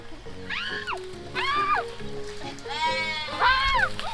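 A goat bleats four times in quick succession, wavering cries close by over low background chatter at a goat farm in Sukhothai, Thailand.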